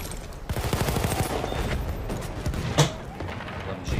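Machine gun fire in Battlefield 1, a rapid stream of sharp shots from about half a second to two and a half seconds, followed by a single louder blast and quieter battlefield noise.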